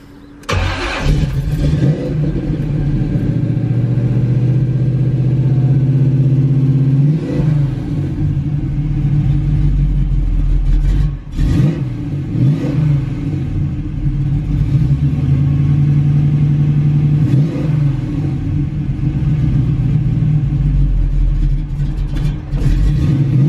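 A 1980 Chevy El Camino engine idles with a deep rumble and revs repeatedly in sharp bursts. It is loud and close, with no talking.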